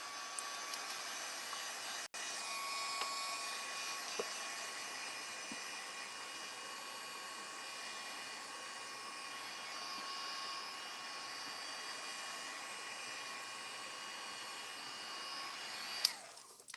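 A handheld heat dryer blows over freshly painted die-cut craft shapes, producing a steady, close whoosh with a high whine that runs unbroken for the full length, with a faint click near the end.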